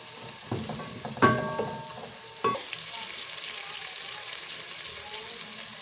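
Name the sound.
coconut milk added to a frying pan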